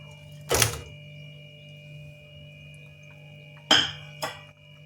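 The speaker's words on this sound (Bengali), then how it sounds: "মাছগুলো আমি এবার দিয়ে দিচ্ছি।" Rohu fish pieces drop into a simmering poppy-seed gravy in a Bengali kitchen, giving a short clatter and splash, then two more brief clinks of a utensil later, over a steady low hum with no talk.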